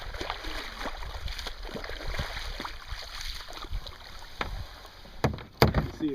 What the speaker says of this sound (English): I'm going to paddle to it.